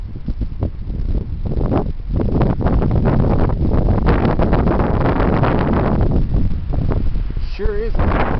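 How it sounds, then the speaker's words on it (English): Heavy, cold wind blows outdoors in a steady loud roar with buffeting gusts against the microphone, lasting throughout. "Sure is cold out there. The heavy wind."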